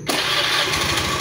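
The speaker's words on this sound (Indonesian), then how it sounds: "Coba langsung tombol starter, apakah langsung jreng apa masih kumel?" Fuel-injected motorcycle engine cranked by its electric starter button, catching quickly and settling into a steady, close running rumble that continues to the end, with no talk.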